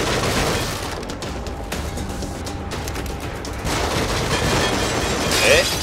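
Gunshots in The Evil Within, scattered sharp cracks over a dense, noisy background that keeps going throughout, fairly loud and near.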